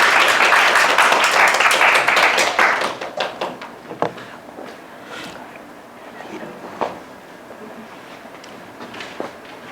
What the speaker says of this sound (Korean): 여러분 큰 박수로 부탁드리겠습니다.